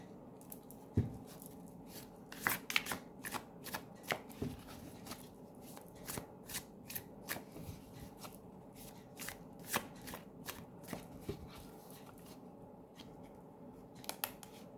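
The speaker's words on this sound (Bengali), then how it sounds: "একে একে কার্ড নিচ্ছি।" Tarot cards are shuffled and drawn one by one, a quiet close run of crisp riffling snaps and soft slides in uneven bursts, with no talking.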